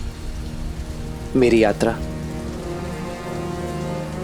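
Rain falls steadily in a hiss that continues throughout, with a sung or spoken voice briefly rising over it midway.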